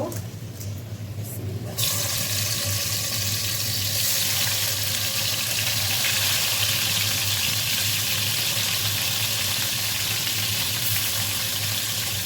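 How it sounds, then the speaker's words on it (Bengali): Hilsa fish frying in hot oil makes a loud, dense, continuous sizzle that jumps in suddenly after a quieter opening and then holds steady and close throughout. "এখন ইলিশ মাছটাকে ভেজে নিব"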